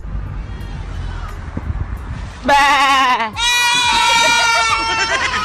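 A man sitting in a car imitates a goat, letting out a loud, wavering bleat that breaks briefly and then resumes in a longer sustained cry over outdoor background noise.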